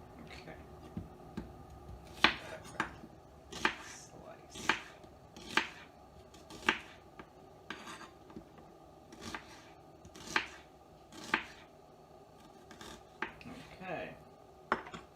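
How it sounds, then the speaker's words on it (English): A knife chops red onion on a board in a steady series of sharp, close thuds, about a dozen distinct cuts with brief pauses between them. "onion a quick chop. And I'm using red onions."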